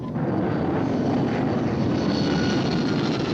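Small airplane engine droning steadily while the plane circles low on reserve fuel, a loud, continuous cabin roar with no voices over it.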